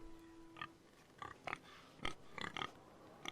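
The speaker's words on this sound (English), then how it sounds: "There's a pig." Several short grunting oinks from a pig in the Forrester lands of the Game of Thrones Telltale video game, spaced irregularly over a quiet background at moderate volume.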